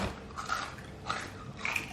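A few crisp bites crunch into a crunchy, crispy snack close to the ear, three distinct crackling bursts over a quiet background with no talk.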